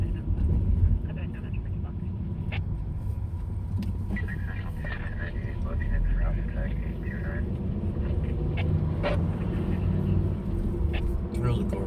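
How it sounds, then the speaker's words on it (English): An older Corvette passes on a city street in Bakersfield, a broad engine rumble swelling and easing under constant road noise with a voice talking over it. "There's a Corvette that just went past me."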